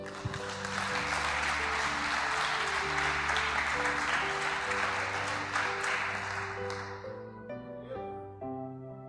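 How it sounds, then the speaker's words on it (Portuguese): Congregation applauding during a church service, dense clapping sustained under sustained music tones, then thinning out toward the end. "Você pode aplaudir o Senhor?"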